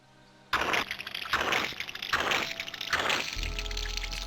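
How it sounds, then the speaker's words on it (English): Water gushing from a hose into a well in a French mansion-inheriting simulator video game, heard as several loud surging splashes in repeated bursts, ending with a low steady rumble. "Waste a ton of water filling up that well."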